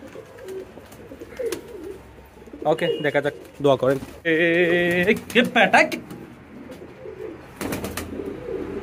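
A pet pigeon coos up close in repeated soft, throaty bursts, while someone talks intermittently nearby.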